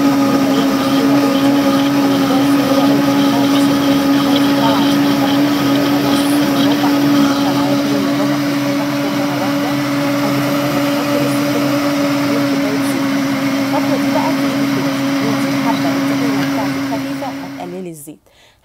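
An electric blender grinds sesame seeds and peanuts into tahini with a loud, steady, high-pitched motor whine and churning rattle that holds for many seconds, then winds down and cuts off near the end.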